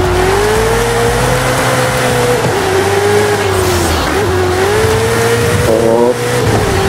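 A car races through rain in Forza Horizon 5, its engine holding a loud, steady high drone with slight rises and dips in pitch and a brief shift near the end, over constant road and spray noise.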